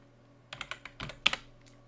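Someone types on a computer keyboard in a quiet room: after a brief pause comes a short run of about eight close, crisp key clicks, with a louder double tap near the end.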